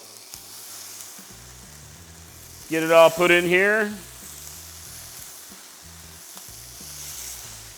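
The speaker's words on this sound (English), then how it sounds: "listen to that sizzle" Shrimp sizzle with a steady hiss in hot oil in a pan while a person speaks briefly over it and utensils clink.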